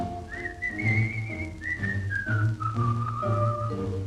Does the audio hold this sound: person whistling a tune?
yes